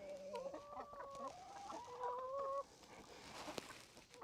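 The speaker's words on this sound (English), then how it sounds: "these white chickens, these leghorns" White leghorn chickens pecking at treats give a run of close, soft clucks and short warbling calls over the first half. Quieter farmyard ambience and a sharp tap follow.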